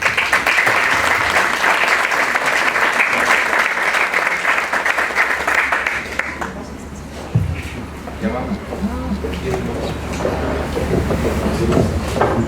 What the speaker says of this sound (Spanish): les pido que lo recibamos con un muy fuerte aplauso